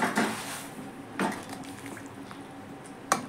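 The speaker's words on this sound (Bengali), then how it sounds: "এখন ঢাকনাটা উল্টাবো।" A pan lid clanks against a cooking pot of fish and potato curry: three sharp metallic knocks spaced apart, with a quiet kitchen hum between them.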